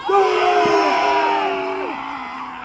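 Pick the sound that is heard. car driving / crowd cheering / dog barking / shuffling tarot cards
crowd cheering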